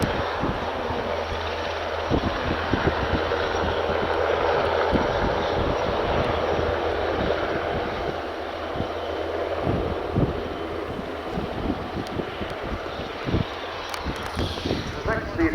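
A tiltrotor aircraft transitioning to helicopter mode at an air show roars steadily with a heavy rotor-like throb, mixed with wind buffeting the microphone and a voice talking over it.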